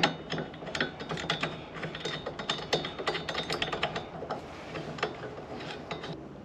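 A ratchet clicks in quick, repeated bursts while tightening bolts on a mid-height truck bed rack, close and moderately loud with short pauses between strokes.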